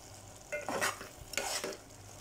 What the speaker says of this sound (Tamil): சேர்த்துட்டு அதையும் நல்லா மிக்ஸ் பண்ணி விட்டுருங்க.